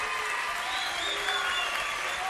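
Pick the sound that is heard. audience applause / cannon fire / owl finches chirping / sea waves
audience applause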